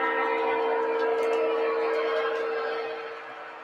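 A model C630 diesel locomotive runs along a layout with a steady, close hum and a sustained tonal whine, gradually fading slightly toward the end.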